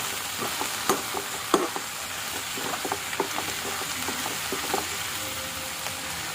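Chili powder being stirred into dried prawns and okra frying in a pan for a Godavari-style tamarind stew, a steady sizzle with scattered scraping clicks of the spoon, close and continuous.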